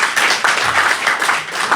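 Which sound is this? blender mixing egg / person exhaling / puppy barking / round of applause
round of applause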